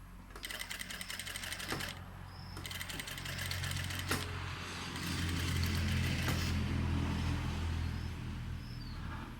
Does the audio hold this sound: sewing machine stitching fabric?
yes